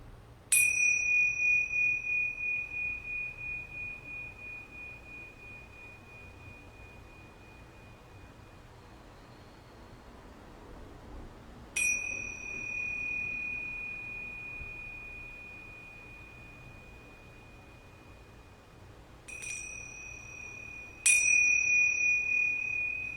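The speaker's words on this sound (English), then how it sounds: "I'm going to ring these yoga bells 3 times." Yoga bells are struck three times, each a clear, bright ding that rings out and slowly fades before the next strike, close and alone in a quiet room.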